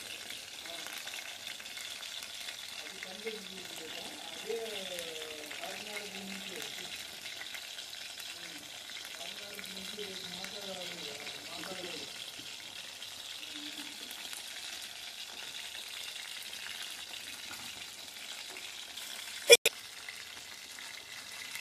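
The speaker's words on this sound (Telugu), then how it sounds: "చూడండి, ఇలాగా కొద్దిసేపు వేగనిద్దాం." Chicken pakodi frying in a pan of oil gives a soft, steady sizzle throughout, with faint stirring scrapes and a brief sharp clack near the end; no voices.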